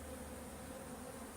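Honeybees buzzing steadily at an open hive during a hive inspection after a collapse, a dense, even drone of many insects close by with no break.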